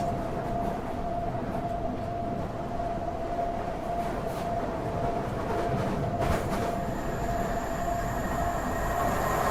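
Train running in a train simulator video game, a steady rumbling engine and rolling wheels with a constant tonal hum, continuous and fairly loud throughout, with a brief metallic squeal near the end.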